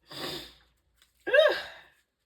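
A single close sneeze: a sharp inhaled build-up, a brief pause, then an explosive burst of breath that tails off.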